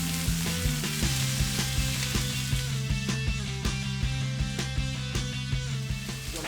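Beef steak, seasoned with salt, sears in a hot pan with a loud, steady sizzle and crackle, close up and continuous, with faint regular tapping under the frying.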